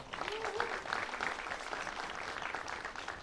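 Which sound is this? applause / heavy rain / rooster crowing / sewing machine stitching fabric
applause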